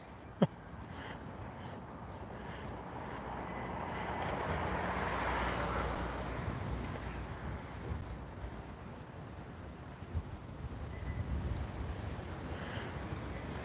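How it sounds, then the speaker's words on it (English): Steady wind blowing outdoors on a city street in Honolulu's Chinatown, a broad continuous rush that swells in the middle and again near the end, with a single sharp click near the start and no talking. "Boy, that wind just feels good though, huh?"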